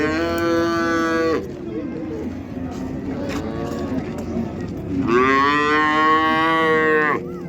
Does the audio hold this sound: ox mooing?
yes